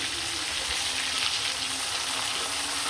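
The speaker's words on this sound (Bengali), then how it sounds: "মাছগুলো কিন্তু খুব সুন্দরভাবে ভাজা ভাজা হয়ে গেছে একদম লাল লাল করে ফ্রাই করে ভেজে নিলাম" River snakehead fish frying in oil with onion, a dense, even hiss of sizzling that carries on unbroken at close range with no voices.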